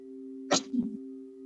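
A single sharp sneeze breaks a quiet restorative yoga class, followed by a softer trailing breath over a steady electrical hum.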